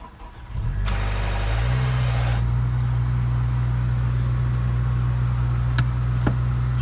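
A 2007 Honda Civic Si manual engine cranks and catches, then settles into a loud, steady idle that drones on close by for several seconds, with a couple of faint clicks near the end.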